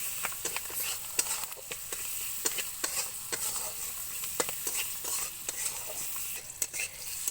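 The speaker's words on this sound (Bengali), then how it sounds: "ক্যাপসিকামগুলো হালকা ভাজা করে নিতে হবে" Chopped capsicum fries with five-spice seeds, curry leaves and turmeric in a pan. It gives a steady close sizzle while a spatula scrapes and stirs in frequent light strokes.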